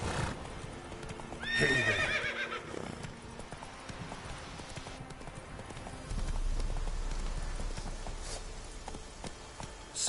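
Roach, the horse in The Witcher 3, gives a clear whinny, and hooves clip-clop at a walking pace throughout. Someone says a short greeting over the game sound, and a low rumble enters later.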